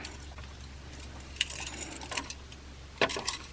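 Several keys on a key ring jangle close by in small metallic bursts, two sharper clinks standing out against a quiet hum.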